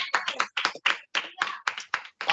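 A church congregation claps in loud, regular bursts of hand claps, each burst separated by short pauses, with no talking over it.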